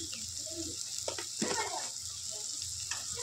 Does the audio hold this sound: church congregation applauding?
no